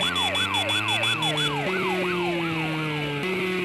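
Police car siren wailing loud and steady, its rising-falling sweeps repeating rapidly and shifting pitch as the vehicle closes in, with a motorcycle engine hum underneath.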